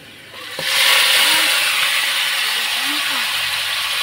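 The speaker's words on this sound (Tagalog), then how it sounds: "gigisa lang yun" Broadband hiss and sizzle from ingredients being sautéed in a pan for adobo, rising sharply after a quiet start and holding steady and loud throughout, with faint low background sounds.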